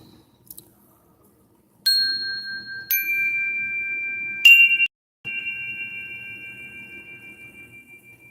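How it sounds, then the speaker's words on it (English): Several bright chime strikes ring out one after another, each tone lingering and fading slowly in an otherwise quiet space. "we're going to bring in the chimes"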